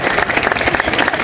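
A crowd at a family fair in Brunete applauds after a dog and its handler are introduced: a dense, steady wash of many hands clapping together, fairly loud and continuous throughout.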